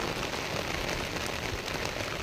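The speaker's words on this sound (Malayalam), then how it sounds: "നല്ല മഴയാണ്" Heavy rain pours steadily and loudly, a dense unbroken hiss of drops striking surfaces with no pauses or voices.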